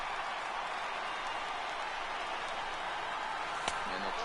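Sustained stadium crowd roar from a baseball video game, over 39,000 fans on their feet, a steady broadband wash of cheering with a brief sharp clap near the end.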